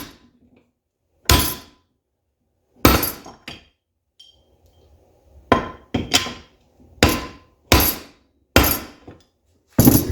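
Sharp, loud hammer blows ring out one at a time at uneven intervals as a U-joint cup is driven out of a slip shaft clamped in a vise, with quiet gaps between strikes and no talking.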